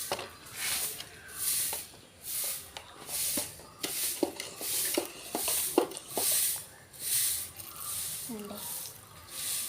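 A spray bottle mists water onto a potted plant in a quick series of short, hissing bursts that repeat in an even rhythm, close and fairly loud.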